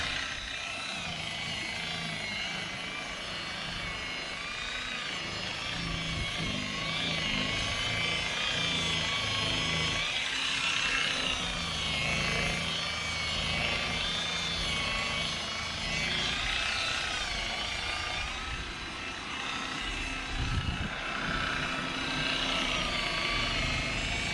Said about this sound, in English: we've been buffing and waxing for 3 days now